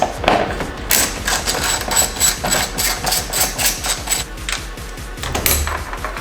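A power driver spinning out Torx screws from the front bumper of a BMW M3, near the scoop behind the kidney grille, giving loud rapid ratcheting bursts that start and stop in close, repeated runs.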